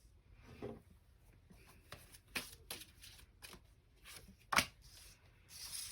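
Tarot cards are shuffled by hand in a quiet room, producing soft riffling, slaps and rubbing taps in an uneven rhythm, close and fairly faint.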